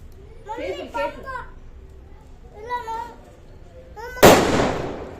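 A single sharp Diwali firecracker bang goes off near the end, with a crackling tail, after children's voices chatter in the preceding seconds.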